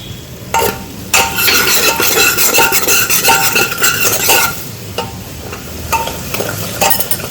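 Cumin seeds and pav bhaji masala roast and sizzle in hot oil in a pan while being stirred, with steady frying crackle broken by short scrapes and clinks of a spoon against the pan; no one speaks.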